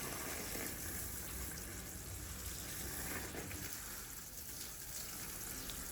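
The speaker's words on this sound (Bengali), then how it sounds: "একটু জল দিয়ে নেব, এখন জল চলে এসছে।" Water runs steadily from a supply for watering plants in a home garden, a continuous broadband gushing hiss at moderate level with no pauses and no speech.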